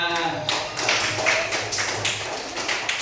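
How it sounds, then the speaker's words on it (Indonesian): Classroom students giving applause, a close burst of dense, overlapping hand claps with uneven bursts over about three seconds. "beri tepuk tangan buat dia"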